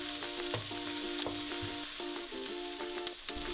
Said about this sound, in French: je vais de temps en temps remuer les poivrons